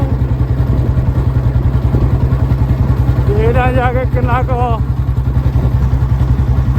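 A motorcycle engine runs steadily with a low, even putter throughout while someone talks over it.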